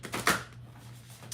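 A deck of cards is shuffled by hand at close range, with a quick run of papery riffling and flicking bursts, strongest near the start, over faint background hum.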